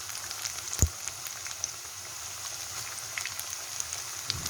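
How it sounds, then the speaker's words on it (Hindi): A batch of corn fritters fries in hot oil, a steady soft sizzling hiss with scattered small pops and one brief knock early on. "एक बैच मैंने डाल दिया है, इसे फ्राई करते हैं।"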